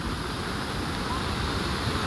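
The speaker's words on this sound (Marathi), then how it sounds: "पाऊस बघा कसला पडतंय, एकदम गडूल पाणी आहे." Heavy rain and rushing water at Adai waterfall in Panvel make a steady, dense wash of noise with no distinct breaks, fairly quiet and even throughout.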